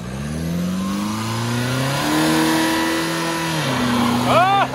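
Diesel truck engine revving hard and rising in pitch during a launch with the e-brake held, aiming to spin the tires in a burnout on fresh dirt, loud and close with people talking over it.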